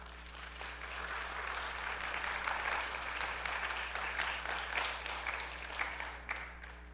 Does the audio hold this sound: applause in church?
yes